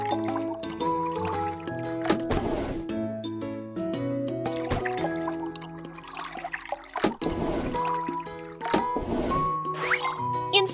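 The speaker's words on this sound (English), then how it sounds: "Pour liquid into the correct tank." Cartoon liquid glugs and drips into a flying car's tank in a children's animation, bubbly pours repeating over gentle background music, fairly close with no talk.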